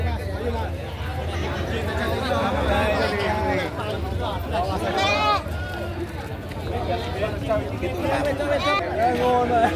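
A busy crowd at Pasar Pon Kalidawir goat market in Tulungagung, with steady babble of many voices and people talking nearby, while goats bleat now and then through the hubbub.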